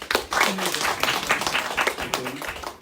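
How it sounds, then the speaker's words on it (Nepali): A church congregation claps together in a short burst of applause lasting a few seconds, fairly close and dense, with voices mixed in. "त्यसै गरेर अब सबैलाई हामी आफैले आफैलाई पनि एकचोटि ताली बजाइदिउँ न त।"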